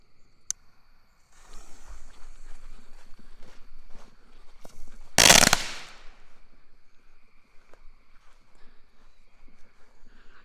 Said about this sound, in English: we are going to light these little crackling balls